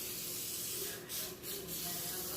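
A spray bottle of glass cleaner sprays onto a Dekton Xgloss countertop in three short, close hissing bursts over steady room noise.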